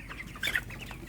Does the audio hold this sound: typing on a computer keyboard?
no